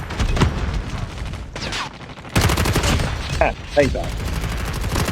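Rapid bursts of gunfire crackle loudly through a Call of Duty Mobile multiplayer match, with dense automatic shots in clusters and someone talking briefly between them.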